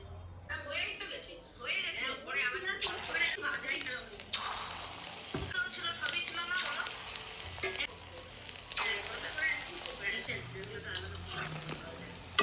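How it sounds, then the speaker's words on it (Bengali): Chicken pakora fries in hot oil with a loud, continuous crackling sizzle that builds after a few seconds and carries on, with a voice speaking over the early part. "এবার এটাকে ভেজে নিব তেলে। এখানে তেলটা গরম হচ্ছে।"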